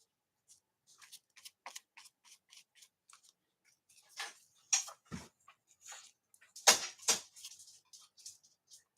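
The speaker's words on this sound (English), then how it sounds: "The clickety clack that you may be hearing in the background, that's Champ." A large dog's claws click and clack on a hard floor as it walks, giving sparse, faint taps that grow into a few louder, sharper clicks near the end, with no talk.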